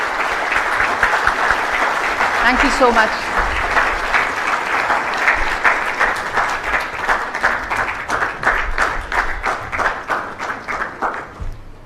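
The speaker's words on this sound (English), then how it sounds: "I request everyone to please welcome with a loud of applause." An audience at the FICCI National Executive Committee meeting in Vijayawada applauds to welcome the Chief Minister of Andhra Pradesh. The loud, steady clapping runs the full length, and a brief voice speaks early on.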